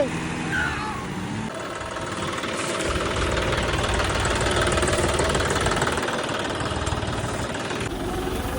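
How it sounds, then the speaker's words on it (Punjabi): A tractor engine idles and chugs steadily with a low rumbling knock, running continuously and fairly close throughout, with a trolley stuck below. "ਲੈ ਵੀ ਟਰੈਕਟਰ ਕੱਢ ਲਿਆ ਬਾਹਰ"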